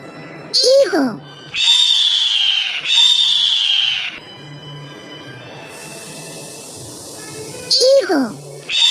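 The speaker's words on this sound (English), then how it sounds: "Eagle." Eagle call in a sequence of bird sounds: sharp descending screech-like cries open and close the passage, with long sustained harsh tones between them, loud and close.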